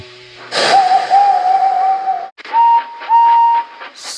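An owl hoots in two long, wavering calls, the first drawn out and the second shorter, heard fairly close with no talking.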